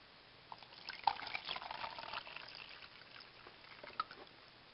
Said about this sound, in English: Now, I'm going to pour the water in.